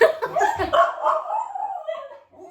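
Dog whimpering and yipping on the grooming table at a pet salon where a border terrier and cocker spaniel are groomed, a close, strained whining run of high yelps that trails off.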